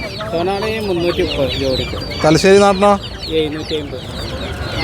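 Chickens and roosters cluck and squawk loudly and continuously at a busy livestock market in Kerala, with a louder burst in the middle, while people nearby talk over the birds.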